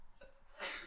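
A single sharp, breathy sneeze bursts out near the end after a quiet moment, close and fairly loud, at an indoor skydiving competition.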